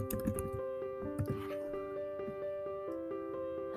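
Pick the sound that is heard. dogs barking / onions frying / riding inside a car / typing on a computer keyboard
typing on a computer keyboard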